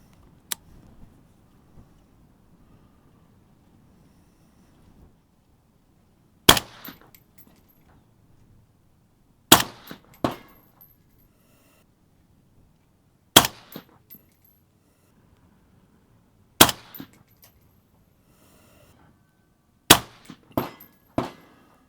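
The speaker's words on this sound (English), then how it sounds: "Five rounds. I'm going to put these onto the center bullseye." Five gunshots firing Hornady V-Match ammunition at a target, loud sharp reports spaced a few seconds apart after a quiet lead-in, some followed by a faint metallic ring or echo, with no talking.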